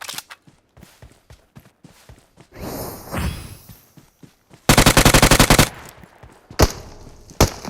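A mobile shooting game fires off loud gunfire: scattered single shots, a dense sustained automatic burst in the middle, and a few sharp shots near the end, all close and prominent.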